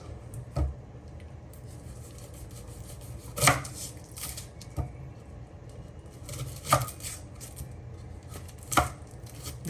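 Onions being chopped with a knife on a cutting board: a few distinct, crisp knife strikes at irregular intervals over a low background hum, close and moderately loud.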